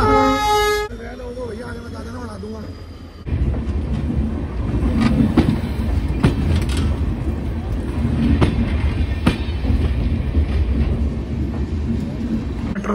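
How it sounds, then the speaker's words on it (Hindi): A train passes close by with a loud horn blast at the start, followed by a continuous heavy rumble and clatter of rolling railcars. "अभी उसका टाइम हुआ भी नहीं है और दूसरी ट्रेन आ रही है"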